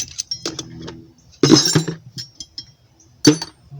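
Metal drill bits and files tossed into a Home Depot bucket make a few sharp clinking clatters, one short burst early, a louder jumble in the middle and a final clank, with quiet gaps between.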